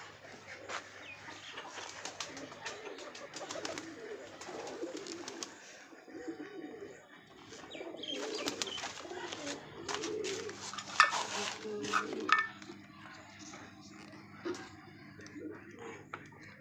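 Pet pigeons coo softly close by, low rounded calls repeating amid faint rustling and scattered bird sounds, with a person speaking intermittently over them.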